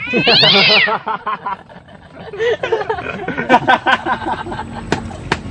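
A loud, drawn-out cat meow up close, followed by softer chattering and snickering vocal sounds in a quieter stretch.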